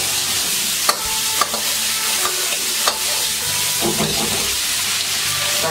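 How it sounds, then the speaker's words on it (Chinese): Kung pao chicken with diced carrot and cucumber stir-fries in a wok with a steady bright sizzle, while occasional scraping clicks of a spatula tap out an uneven rhythm close by. "翻炒几下断生，然后加入鸡丁"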